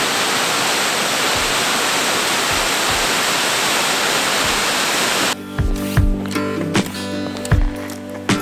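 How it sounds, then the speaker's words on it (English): Waterfall on Iceland's south coast, a loud steady rush of falling water for about five seconds before the sound cuts to a different scene. "We made it to the first waterfall to hike."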